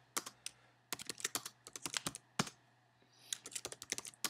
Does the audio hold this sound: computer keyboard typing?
yes